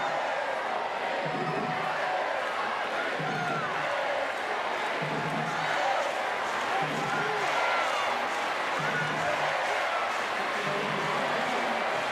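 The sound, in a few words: crowd noise at para judo match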